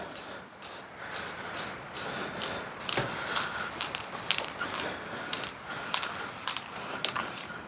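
Aerosol spray paint hisses onto a surface scuffed with Scotch-Brite in a run of short, rhythmic bursts, close and fairly loud with brief gaps between them.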